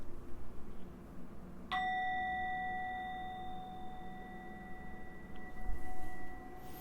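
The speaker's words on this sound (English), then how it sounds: "I'll leave you off with one last bell ring" A single bell strikes once and rings on with a long, clear, slowly fading tone over faint background noise.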